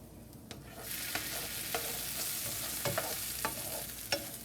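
Green beans and onions cook in a pan, a steady sizzle broken by a handful of sharp scraping stirs spaced about a second apart, close and clear with no talking.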